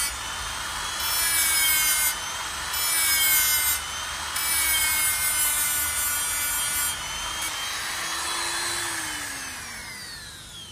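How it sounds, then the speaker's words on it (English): A sandpaper flap wheel smooths the surface of a chrome mirror roller, a steady, close abrasive whirr and rasp with a faint motor whine whose pitch shifts slightly as pressure changes. "we switch to a sandpaper flap wheel to remove any micro burrs and make the surface even smoother."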